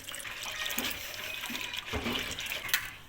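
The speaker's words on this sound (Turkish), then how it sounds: "İçine biraz su dökelim." Water is poured into homemade lemonade, a soft splashing, trickling pour with a few brief louder gushes, close by and fairly quiet.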